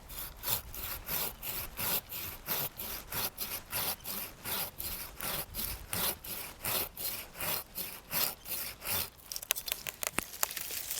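Hand saw making a top cut through a tree branch during three-cut pruning: about twenty steady, rhythmic rasping strokes of a blade through wood, close and clear, ending in a few quick scratchy strokes and snaps.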